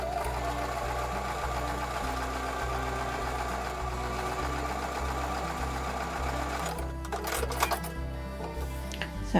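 A domestic sewing machine runs continuously, stitching a quarter-inch seam on a quilt block, with a steady rhythmic mechanical chatter up close, then a brief clatter of handling near the end.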